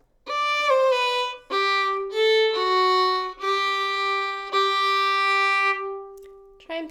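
Old-time fiddle playing phrase 4 of the A part of Going Down to Cairo, a short, clean melodic line of sustained bowed notes with brief gaps between strokes, played alone and up close.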